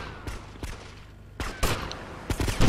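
Sniper rifle shots in GTA Vice City: several sharp, loud cracks at uneven intervals, the last ones clustered close together, over low game background rumble.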